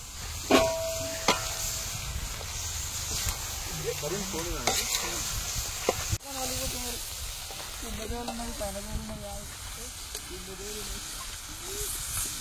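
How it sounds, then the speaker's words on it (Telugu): Ginger paste hits frying chicken in a hot pan, giving a steady sizzle and hiss with scraping stirs throughout; voices talk over the cooking now and then. "అల్లం పేస్ట్ వేస్తున్నా"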